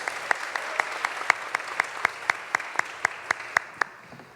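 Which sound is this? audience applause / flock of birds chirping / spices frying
audience applause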